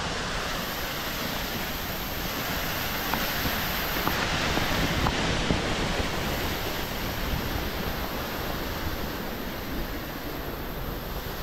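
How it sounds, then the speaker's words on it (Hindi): A small monsoon waterfall on the Harishchandragad trek in Maharashtra rushes in a dense, steady roar of flowing water, close and unbroken, with no voices over it. "हम ये छोटे से वाटरफॉल को क्रॉस कर रहे हैं"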